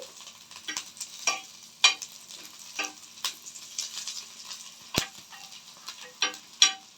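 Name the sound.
green chilies being stirred and fried in a pan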